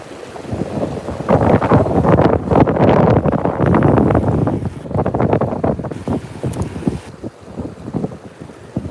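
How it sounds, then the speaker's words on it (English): Wind buffeting a microphone outdoors beside open water, a loud roaring rumble that surges in long gusts and eases briefly toward the end. "There's that dang wind."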